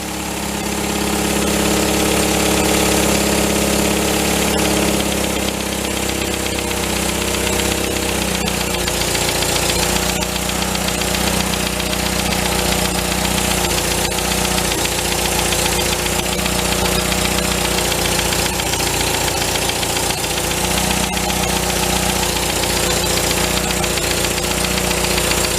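The engine of a 1953 MG TD barn find runs at a steady, slightly high idle, a loud, close, continuous rumble with a faint knocking pulse and no talking.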